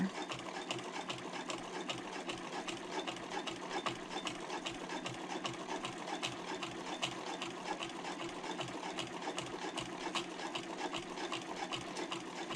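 A sewing machine stitches a handbag's exterior panel, running in a steady, rapid mechanical rhythm of needle strokes throughout, close and moderately quiet, with no talking.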